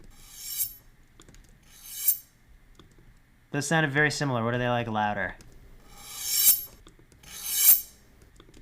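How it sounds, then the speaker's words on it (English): Swipe sound-effect samples play as four short, airy whooshes, spaced a second or more apart. Someone speaks briefly between them. "We'll just call this track swipes."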